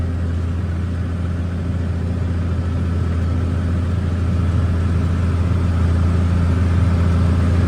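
A tractor running a bush hog rotary mower with dual top and bottom blades while cutting CRP ground, a steady loud low drone of engine and spinning blades, continuous and unchanging.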